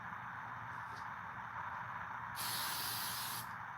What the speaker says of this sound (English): A little bit of hairspray, leave that, and you can do it.